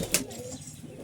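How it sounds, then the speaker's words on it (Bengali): Kaldum pigeons in a loft give a brief, low, soft coo, fairly close, with faint rustling around it and no talk. "এই হলো পায়রার লফট, আর পায়রা অনেক আছে"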